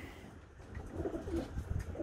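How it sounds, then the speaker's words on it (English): Pigeons coo inside a training box attached to a newly built pigeon trap, a soft, low, rolling murmur that rises and swells through the second half, close by, with no talking. "let's get some birds out in the training box"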